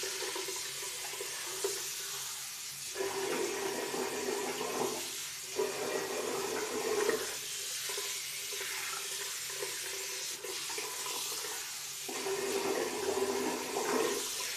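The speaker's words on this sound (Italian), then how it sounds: "Mi vado a risciacquare il viso" Running water at a bathroom sink splashes as a face is rinsed, a continuous rushing flow broken by short dips and changes as hands move through the stream.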